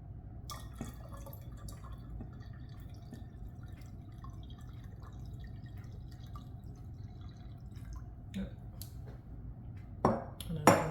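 Plain water pours into a glass jar for green tea kombucha, a low steady trickle with faint drips and pings, rising into louder splashing near the end.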